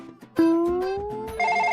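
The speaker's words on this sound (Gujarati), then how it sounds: "ઉભો રે ભાઈ, ફોન આવ્યો." A phone rings with an electronic tone that slides upward, then settles into a bright, repeating beep pattern, loud and close with nothing else over it.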